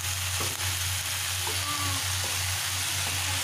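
Tomatoes and pasta frying in a pan make a steady, soft sizzle with a low hum beneath and occasional faint clicks of stirring, heard alone without any talk.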